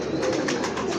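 Teddy pigeon cooing in a low, soft, rolling murmur, close by and continuous through the short moment, with no talk.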